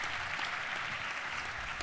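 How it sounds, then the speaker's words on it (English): Audience applause at a fire and EMS annual awards ceremony and dinner, steady dense clapping throughout, fairly distant in a large room. "Big round of applause again for everybody."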